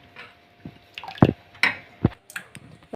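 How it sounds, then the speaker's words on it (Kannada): Water poured from a cup into a bowl of rava and maida dosa batter, heard as a few soft separate splashes and wet drips, close and fairly quiet with no voices. "2 ಕಪ್ ನೀರು ಹಾಕಿದ್ದೇನೆ."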